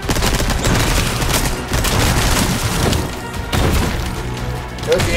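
Machine gun fire in the Resident Evil 4 Remake video game: loud, close bursts of rapid gunfire with booming impacts, coming in several volleys that are split by short gaps.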